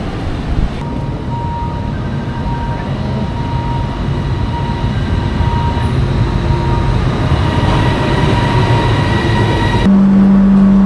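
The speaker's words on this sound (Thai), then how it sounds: "เดี๋ยวพาเด็กๆไปนั่งรถไฟฟ้าเล่นค่ะ เด็กๆอยากนั่งรถไฟฟ้านะ" Ride aboard a Bangkok skytrain, with a steady rumble of the rail car and faint whining tones throughout, loud and continuous, with no talk.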